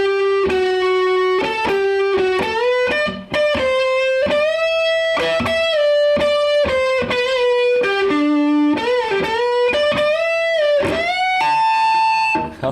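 A distorted electric guitar plays a variation of a guitar solo, a loud, sustained lead line with bends and fast runs over a steady backing, with no talking.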